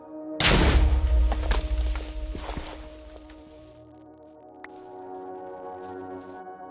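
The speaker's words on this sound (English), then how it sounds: "When combined with the physics mod, the mod Explosive Enhancement really improves explosions." Minecraft VR explosion enhanced by the Explosive Enhancement mod with physics mod, one sudden loud blast followed by rumbling debris thuds and scattered impacts that fade over a few seconds, then a quiet hum.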